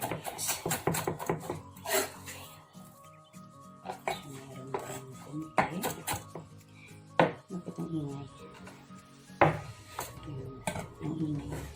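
A knife chops baby cabbage on a board in quick bursts of sharp knocks, pausing between runs, with pots and utensils clattering and a voice talking intermittently underneath.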